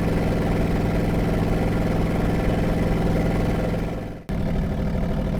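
A donk car engine drones loud and steady while driving on a local road, a deep rumbling hum that dips sharply for a moment near the end before resuming.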